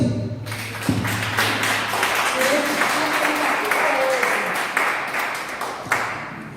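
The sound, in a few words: church congregation applauding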